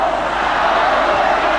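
A largely Argentinian football crowd in Paysandú at a 1995 Copa America match against Chile makes a steady, loud, distant roar of cheering with no breaks or peaks.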